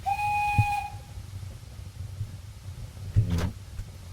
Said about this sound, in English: and that's the brakes and a whistle.